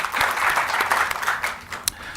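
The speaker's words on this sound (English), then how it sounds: "We'll clap anyway." Short burst of clapping from attendees at an annual general meeting as past association presidents are named, a moderate patter of hands over about two seconds with one sharper clap near the end.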